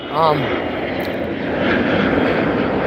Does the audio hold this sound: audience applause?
no